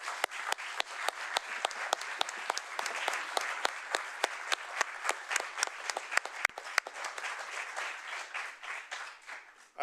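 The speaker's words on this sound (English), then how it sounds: "So if you'd join me in a round of applause" An audience at a legislative town hall gives a steady round of applause, many hands clapping densely for about ten seconds with sharper individual claps standing out, and no talk over it.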